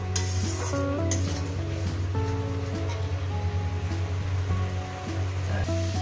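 Garlic sautéing in a pan with water from a rinsed bowl, a steady close sizzle with scraping stirs and clinks running throughout, under a low steady hum.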